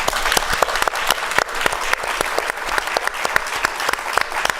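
Audience clapping in a lecture hall during a talk on PEPFAR at 20, a moderately loud stretch of applause with distinct individual claps standing out, continuous throughout.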